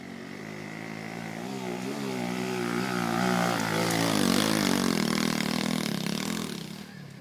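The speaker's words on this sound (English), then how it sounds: "try to ride a small motorbike with no brakes" A small motorbike with no brakes rides past, its engine note rising and falling in a steady drone that swells louder toward the middle and fades slightly at the end, with no talking.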